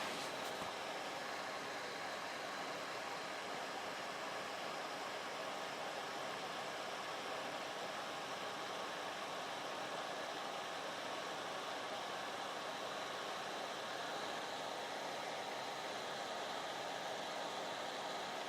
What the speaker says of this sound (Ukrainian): зараз одну хвилину буде працювати вентилятор